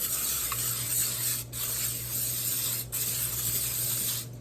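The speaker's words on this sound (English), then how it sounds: "the thing I almost forgot to do was spray the pan" Cooking spray is sprayed onto a pan for French toast: close, loud hissing bursts, with brief breaks splitting it into about three sprays.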